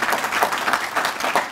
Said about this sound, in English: let's give another very big round of applause to Professor Ndungu for his fantastic presentation